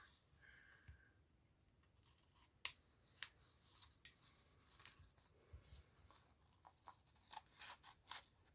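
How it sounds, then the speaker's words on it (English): Scissors snip paper for a junk journal: sparse, crisp single cuts and short clusters of snips, close and quiet, with brief rustles of paper between them in an otherwise hushed room. "what I am going to do is cut off this bit so it actually sticks."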